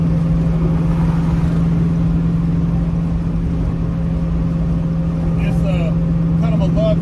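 A 600hp 'Green Machine' Chevelle muscle car cruising on the freeway, its engine giving a loud, steady drone with a constant low hum that holds throughout.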